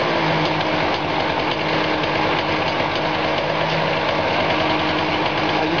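A small, cheap Chinese-made petrol generator engine runs steadily at close range, a constant buzzing drone with a fast, even rattle throughout.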